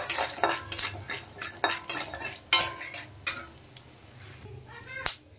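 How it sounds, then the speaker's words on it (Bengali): Nuts and whole spices (cardamom, cloves, cinnamon, black cardamom) fry lightly in a pan for a vegetarian kadai paneer, with repeated sharp clinks and scrapes of a spoon stirring against the pan over a soft sizzle, close by. "বাদামগুলো একটু ভেজে নেব হালকা"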